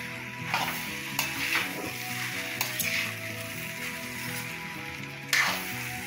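Egg rice with masala sizzles and fries in a pan while a spoon stirs and scrapes through it, steady close sizzle with occasional sharper scrapes, no voices.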